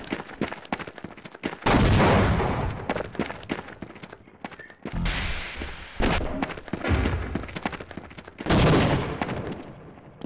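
Gunfire in a Half-Life mod, Hidden Evil: three heavy, loud bursts of shooting with sharp thumps, separated by quieter stretches of scattered shots and game noise.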